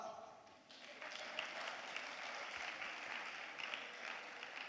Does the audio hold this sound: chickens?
no